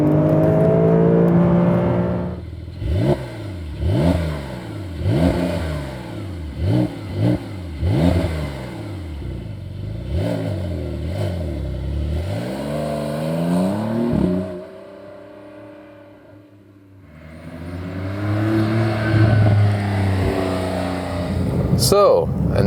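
Porsche 911 (992) engine heard from inside the cabin while driving, revving up through several quick gear changes, then easing off and building again, loud and close.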